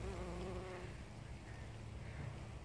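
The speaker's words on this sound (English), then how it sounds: "these really do attract bees. Here we are, one of our bee pollinators enjoying a forage in the flower head of the Allium here" A bee foraging in an Allium flower head in a garden border, giving a brief low buzzing hum over steady outdoor background noise in the first second, then fading into the ambient air.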